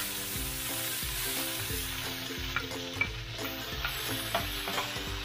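Onion and tomato sizzle in a hot pan while a utensil stirs them with steady, repeated scraping strokes. The sound is close, and no voice is heard over it.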